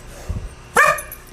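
A dog lets out one sharp, loud bark close by indoors, right after a soft low thump, then things go quiet again.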